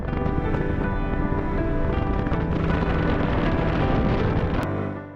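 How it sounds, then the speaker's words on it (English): Heavy wind roars across a microphone while cycling over the Golden Gate Bridge above the bay, a loud, steady, close buffeting that lasts throughout and fades at the end. "The sound of the heavy wind and the surreal feelings of riding above the bay"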